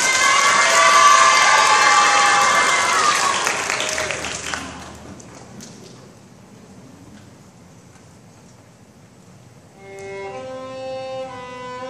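Audience applause at a primary school orchestra summer camp, a loud burst of many hands clapping and some cheering that fades away after about five seconds, followed by quieter room sound and then instrumental notes.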